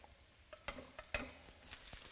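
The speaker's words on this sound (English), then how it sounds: "So in goes the garlic, and the garlic chives as well." Garlic and garlic chives stir-fry in a hot pan with rice noodles and meat, giving a faint, steady sizzle broken by irregular scrapes and taps of a spatula.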